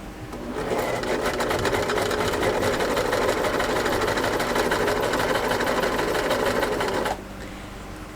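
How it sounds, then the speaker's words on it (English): Sewing machine stitching cotton quilt pieces together for a baby quilt top, a steady rapid mechanical whir running continuously for about seven seconds before stopping. "and we'll sew those together."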